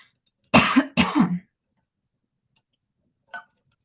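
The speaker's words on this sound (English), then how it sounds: "when I'm on a live, I have a coughing attack" Two harsh coughs in quick succession, close and loud, followed by silence and a faint small click.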